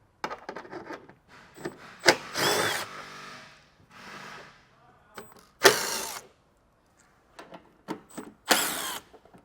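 A power drill backs T30 screws out of the bumper of a 2021 Ram Promaster van, with three loud, short whirring bursts separated by quieter scraping and handling noises.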